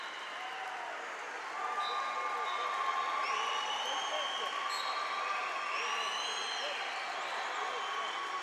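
Crowd at a wrestling tournament, the Black Knight Invitational, cheers and applauds steadily after a late takedown, a broad wash of clapping and shouting swelling slightly and holding at a moderate distance throughout, with a few whistle-like tones.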